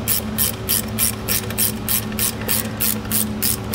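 A ratchet clicks in steady, rhythmic bursts as a bolt is snugged down on the rear disc brake conversion of a 1962 Corvette, close and clear with no talking.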